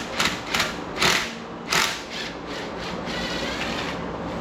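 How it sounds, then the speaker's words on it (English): Bolts are unscrewed from pit bike handlebars with a ratcheting tool, giving a few sharp close clicking bursts followed by a steady lower rubbing, grinding rasp. "I'm just gonna take these bolts out"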